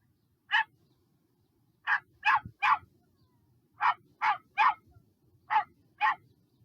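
Repeated recorded dog barks come in short bursts of two or three, evenly spaced over several seconds, clear and close against a quiet background.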